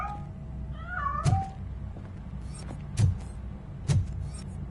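A cat in the video game Robocop Rogue City meows a few times early, followed by several short, evenly spaced thumps, with a low ambient hum underneath and no talking.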